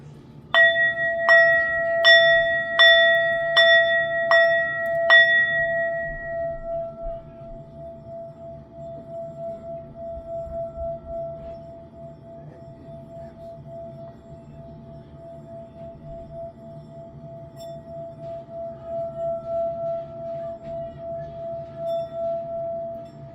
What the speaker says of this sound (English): so let's do the sound bowl real quick.